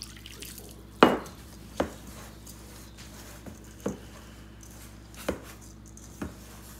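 Warm water is poured into a bowl of couscous for Moroccan couscous, with splashy pours and separate wet plops at irregular intervals over a quiet background.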